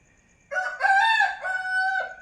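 At dawn a rooster lets out a single loud, nearby crow after a brief quiet moment, the call wavering in pitch before a long held final note that cuts off sharply.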